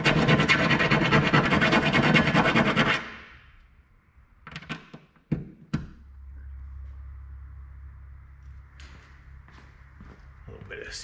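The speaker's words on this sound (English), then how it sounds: "just clean it up with a file." A hand file scrapes rapidly in a drilled hole for a bus's rear LED light, loud and close for about three seconds, then stops. Scattered knocks and a low hum follow, with a voice speaking faintly.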